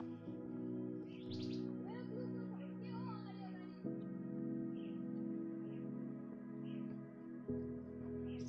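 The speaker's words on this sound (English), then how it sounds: "Wildlife sanctuary, even you can hear the birds chirping." Birds chirp and tweet in a cold wildlife sanctuary on the way to Teen Chuli in Sikkim. The calls are faint and scattered, set over a loud, steady, droning hum that lasts the whole time.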